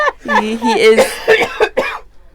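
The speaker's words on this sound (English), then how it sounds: "He is coughing as we speak" A single harsh, violent cough fit from a dog, several rough bursts in quick succession, close and loud.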